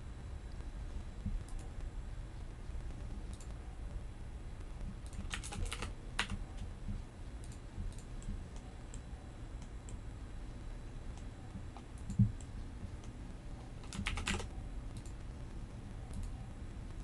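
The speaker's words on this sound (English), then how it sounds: "just have the really loud keyboard on stream" Steady, continuous keyboard typing with a few louder bursts of clacks, close up and alone, with no voices over it.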